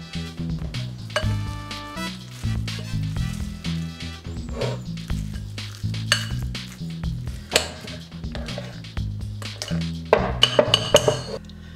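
A creamy herbed cashew cheese mixture with nutritional yeast being moved into a bigger bowl, with scattered clinks and knocks of dishes and utensils, close by, and a soft scrape between them.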